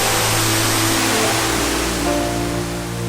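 Banias (Ion) waterfall, fed by a river rising in Lebanon and flowing into Israel, pours in a steady, dense roar of falling water that holds at a constant loud level throughout.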